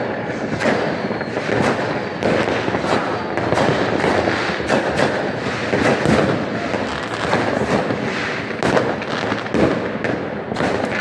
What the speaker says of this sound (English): Fireworks! Happy New Year